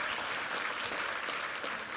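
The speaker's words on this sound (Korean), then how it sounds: "우리 하나님께 감사와 영광의 박수 올려드리겠습니다" A church congregation at a Sunday worship service clapping in praise, a moderately quiet, sustained patter of many hands that holds steady without speech.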